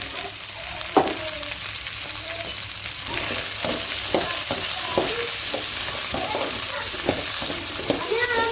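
Ivy gourd sautéing in oil in a pan, a constant loud sizzle with repeated close scraping strokes as the pieces are stirred.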